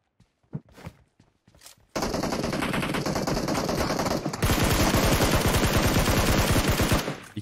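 Gunfire from the mobile battle royale game PUBG Mobile: a few scattered single shots first, then loud sustained automatic bursts of rapid rounds rattling continuously for several seconds.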